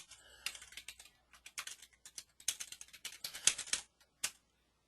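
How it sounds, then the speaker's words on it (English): Fingers tap on a computer keyboard in quick, uneven bursts of close, crisp clicks with short pauses between, entering notes for a nursing clinical evaluation, with no talking. "What else am I typing?"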